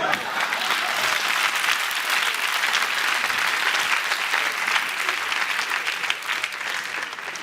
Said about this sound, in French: Il y a des gens, ils n'ont rien compris, ils applaudissent seulement.